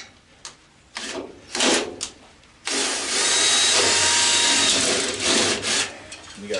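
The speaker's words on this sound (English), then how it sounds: "Got a 3/16 drill bit on here." A power drill with a 3/16 drill bit bores out rivets in aluminum scrap: a few short rough bursts, then a loud, steady, gritty whine grinding on for several seconds up close.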